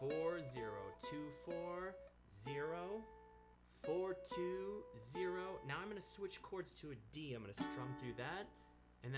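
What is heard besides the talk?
No everyday noises stand out.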